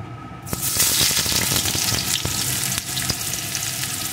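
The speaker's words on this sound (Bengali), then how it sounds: "সাথে দিয়ে দেবো লঙ্কা কুচি। এগুলোকে একটু ভেজে নেব।" Chopped onion and chilli hitting hot oil, a sudden loud sizzle that keeps crackling steadily, broken by a few clicks of stirring and no voices.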